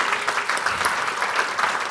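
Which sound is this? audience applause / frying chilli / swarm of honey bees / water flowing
audience applause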